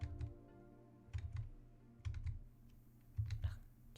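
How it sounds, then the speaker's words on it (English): A computer mouse clicks the undo button repeatedly during digital drawing, giving quiet, soft clicks in short clusters separated by pauses. "Hear me like clicking the undo button."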